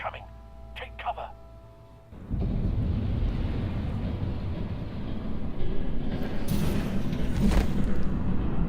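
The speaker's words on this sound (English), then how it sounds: "There's a train coming." A train approaches in the Telltale Batman video game, starting as a sudden loud, broad rumble after a quieter stretch with brief sounds. The rumble holds steady and swells near the end with hissing.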